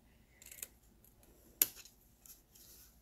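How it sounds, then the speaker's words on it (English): Scissors snip through a cardboard makeup palette box, trimming off small sections: a few soft cuts followed by one sharp, louder snip, then quieter rustling of the cardboard close by. "we don't need these two little sections right here, so we can cut these completely off"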